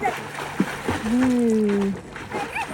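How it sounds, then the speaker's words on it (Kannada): A child swims and splashes in shallow water by a small check dam during a family camping trip. Light, scattered splashes are heard beneath voices and a drawn-out vocal call. "ಸ್ವಿಮ್ಮಿಂಗ್ ಮಾಡ್ತಾರೆ ನೋಡಿ"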